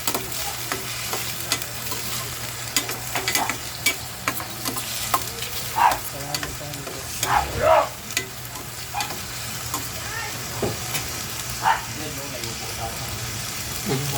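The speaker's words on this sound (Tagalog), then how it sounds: "Maluto natin maigi ang ating kamatis para manuot yung lasa." Tomatoes stirred and sautéed in a hot pan for a chayote dish, with steady frying sizzle and scraping spoon strokes, a few louder clattering stirs standing out close by.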